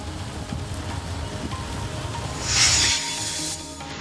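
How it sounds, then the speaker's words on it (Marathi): Heavy rain falls in Chandrapur city amid a thunderstorm, a dense, steady hiss of drops close by, with a brief brighter splashing swell near the end. "चंद्रपूर शहरात विजांच्या कडकडाटासह मुसळधार पावसानं हजेरी लावली"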